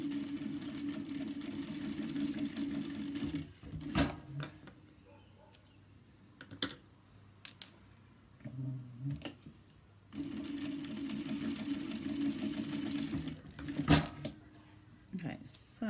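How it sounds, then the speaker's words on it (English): A sewing machine top stitches a handbag in two steady runs of fast mechanical whirring, separated by a quiet pause with scattered clicks and handling sounds. "then we're going to do another top stitch"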